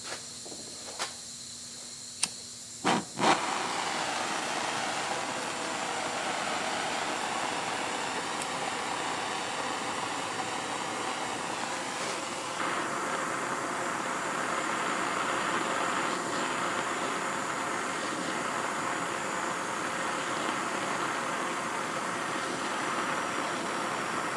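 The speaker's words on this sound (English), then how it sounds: "So here's my map gas torch." A MAPP gas torch burns with a steady, even hiss and roar while heating the spindle flange on a Cub Cadet LGTX1054 mower deck, preceded by a few clicks and a sharp ignition pop.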